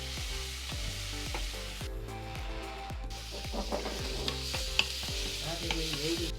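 Vegetables sauté in a pan for pav bhaji, a steady close sizzle with repeated scraping stirs of a spoon throughout, no talking.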